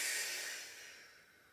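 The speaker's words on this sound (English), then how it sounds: "long exhales out through the mouth" A long breath exhaled out through the mouth during a Pilates class, a steady airy hiss that is loudest at the start and slowly fades over about a second and a half, close and alone with no talk.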